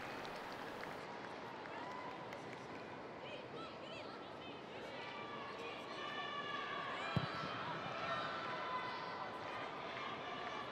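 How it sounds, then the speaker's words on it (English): At a women's football match, Celtic supporters applaud their hat-trick scorer as she leaves the pitch. The clapping comes as a broad, distant crowd wash beneath a commentator's steady talk. "Round of applause, and rightly so, the Celtic supporters."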